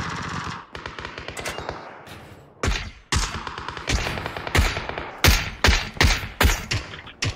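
Gunfire in the shooter game The Division 2: rapid automatic bursts followed by a string of loud, sharp separate shots, close and punchy, with no talking over them.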